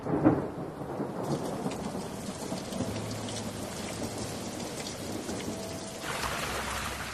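Steady rain pours down while thunder rumbles low and long, a dense continuous downpour with a rolling rumble in the middle, no voices.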